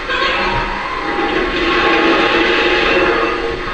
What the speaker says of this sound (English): You got a water sound.